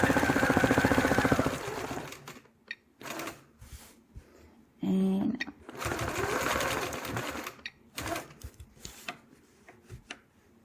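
Sewing machine stitching a quilt block with variegated thread, rapid mechanical whirring in several bursts of a second or two, separated by short pauses and small clicks.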